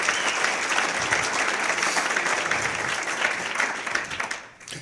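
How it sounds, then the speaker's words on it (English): An audience at a live talk on the Disclosure Project gives a sustained round of applause, a thick steady wash of clapping that thins and fades near the end. "a round of applause for him for the enormous work"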